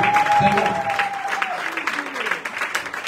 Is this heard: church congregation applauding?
yes